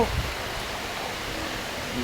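Steady rain hisses as an even, continuous wash of noise with little change in loudness.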